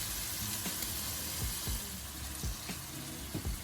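Handi kebabs sizzle steadily in a hot pan, a close continuous crackling hiss with soft pops as they are laid in.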